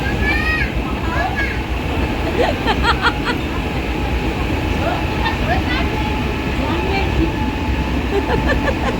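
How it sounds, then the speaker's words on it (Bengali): A passenger train rumbles steadily at a station, its low, continuous roar holding throughout while bright squeals and clanks cut through. Voices chatter loudly over the engine noise. "ট্রেনটা ছাড়ছে"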